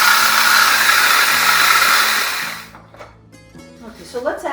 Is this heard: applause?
no